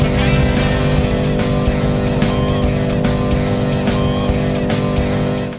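Cars racing in the Grinch video game's secret racing minigame, a loud continuous engine roar with tire squeals and passing whooshes, dense and close throughout with no talking.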